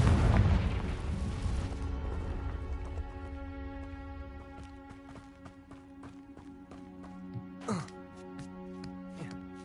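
A fiery blasting spell in a fantasy wizarding video game set at a magic school, bursting loudly at the start and fading into a ringing musical tail, with smaller crackles and another burst later.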